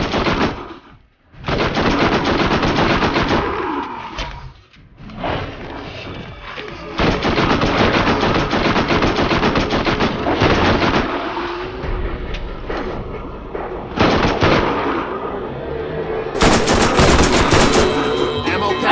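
Rapid submachine gun bursts in the Borderlands shooter game, loud and sustained automatic fire broken by a few short pauses, with sharper bursts toward the end.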